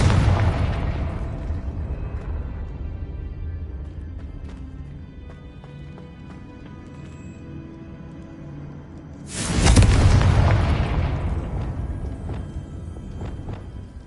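A Confringo fire spell exploding in Hogwarts Legacy: one deep booming blast that fades into a long rumbling tail, then a second loud explosion bursts in near the end and slowly decays.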